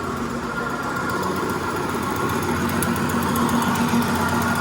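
A steam engine on a power plant training rig runs steadily, a loud continuous mechanical drone and hum with no breaks.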